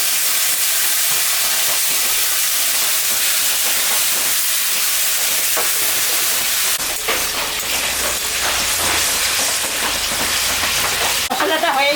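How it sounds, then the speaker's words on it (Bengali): Chicken coated in a paste of ginger, cumin, coriander and dried chili with salt and turmeric fries in a pan, giving a steady close sizzle with occasional stirring clatter and louder bursts near the end. "মশলাটা হয়ে গেছে কষানো"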